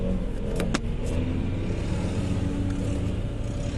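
A motor vehicle passes by outdoors in a town, its engine a steady close rumble that swells and holds, with no talking over it.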